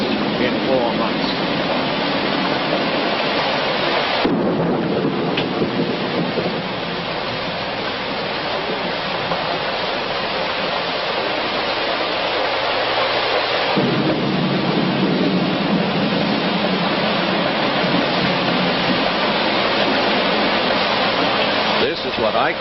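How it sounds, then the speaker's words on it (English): Heavy rain pours down outside the Renaissance Hotel, the first decent rain in four months, a dense roar with deep thunder rumbling through it that rises and falls over time. "they are enjoying the first decent rains in 4 months."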